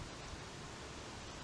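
Water pours steadily from a spout into a bottle held beneath it, a continuous close, even hiss of flowing liquid with no voices.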